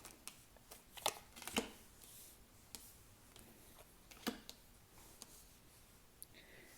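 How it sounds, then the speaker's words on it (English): Tarot cards are shuffled and laid out on a surface, giving a quiet run of crisp flicks, taps and soft slaps spaced irregularly, with a brief riffle in the middle and no talking. "So let's lay the cards out."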